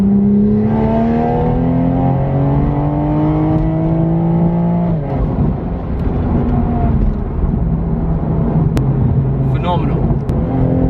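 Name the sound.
550 BHP Toyota Supra accelerating hard in fourth gear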